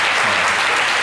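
A studio audience on a midday television show claps in a dense, steady burst of applause, loud and continuous throughout the brief moment.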